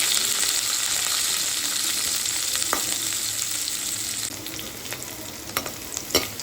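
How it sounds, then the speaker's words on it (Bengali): Chopped onions fry in a pan with cumin seeds, a steady loud sizzle that later thins as the onions are stirred, with sharp scraping and tapping clicks toward the end. "আর কুচানো পেঁয়াজটাও এর মধ্যে দিয়ে দেব। এবার একটু ভালো করে নাড়িয়ে নেব।"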